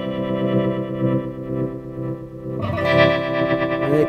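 A Gravitas pedal in double tremolo mode pulses a sustained, harmonically rich guitar tone, its volume throbbing steadily before a brighter, busier chord enters partway through, with no talking.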